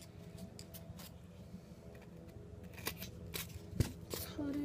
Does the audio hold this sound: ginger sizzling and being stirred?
no